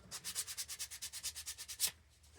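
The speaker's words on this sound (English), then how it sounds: "Just sand that." A wooden snowman Christmas ornament, turned on a lathe, is sanded in a fast, even rhythm of about twenty soft rasping strokes, close and quiet, ending abruptly.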